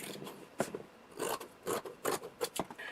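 Scissors cut through fabric for a beach lounge chair cover in a series of close, rasping snips that come in uneven bursts with short pauses between them, fairly quiet overall.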